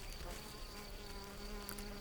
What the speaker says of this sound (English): It's no easy task for a small bee like the red-tailed mason.